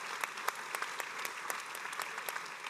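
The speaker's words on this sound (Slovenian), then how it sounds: "tako da najprej velik aplavz našemu" Audience applause for a lifetime achievement award winner at a public forum, steady close clapping with distinct individual claps rising above the dense wash, continuing evenly throughout.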